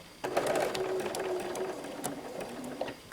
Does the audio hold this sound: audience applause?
no